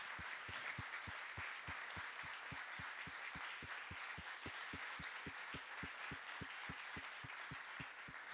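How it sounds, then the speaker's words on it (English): Standing ovation from a summit audience for Nicole, a faint, distant wash of applause with a steady, rhythmic unison clap beating about three times per second throughout. "A huge round of applause and thanks."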